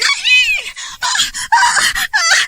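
A woman's loud, anguished screams of horror in a Hindi horror comedy story about a tree-dwelling witch, several high wailing bursts close by with short breaks between them and no other talk.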